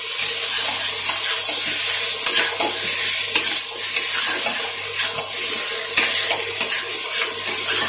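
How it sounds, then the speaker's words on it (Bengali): Eggs cooking with turmeric in a hot pan while being stirred, a constant bright sizzle with scraping and splattering bursts, close and fairly loud, steady throughout without speech. "তারপরে এসবকে আবার ভালো করে কষিয়ে নেব, নাড়াচাড়া দিয়ে"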